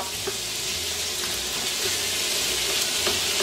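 About a pound of ground pork sizzles loudly in a pan and is broken up as it fries, a steady dense crackle with occasional scraping stirs and no talking.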